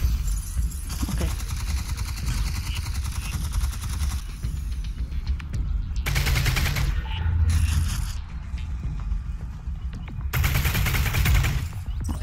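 Gunfire in the VR shooter Half-Life: Alyx, loud bursts of shots and rattling fire coming in waves over a dense, rumbling battle din, with no talk.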